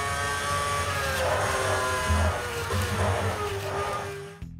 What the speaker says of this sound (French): Prenons par exemple une voiture de course miniature de Formule 1 et contrôlons son prototype virtuel